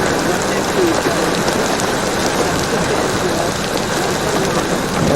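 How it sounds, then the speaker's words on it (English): Hail falls during a severe tornado-producing storm, making a dense, steady roar of icy pellets drumming on surfaces close by, sustained and loud without a break. "We do have some hail."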